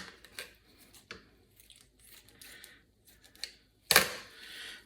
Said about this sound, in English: Now I'll come and trim this with my scissors.